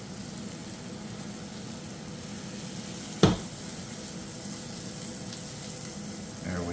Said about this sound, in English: So we are pretty well there with our vegetables. One final stir.